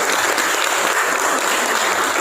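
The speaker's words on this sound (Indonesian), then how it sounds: "Baik, tepuk tangan dulu buat kita semua." A classroom of students applauds together, a dense, steady wash of clapping that fills the room at full loudness with no talk over it.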